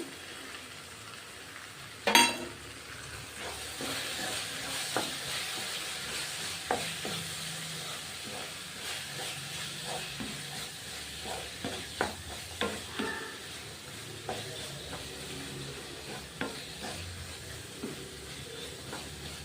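Onion tomato masala with garam masala, turmeric, chili powder and cumin powder fries on a low gas flame in a pan, giving a steady sizzle broken by frequent scrapes and clicks of a spoon stirring, with one sharp clatter near the start.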